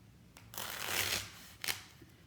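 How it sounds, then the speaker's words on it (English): A knife saws through a soft foam pool noodle in two bursts of rough, scraping rustle, close and fairly loud against a quiet room. "so that you're not sitting here listening to me cut all of the pool noodle"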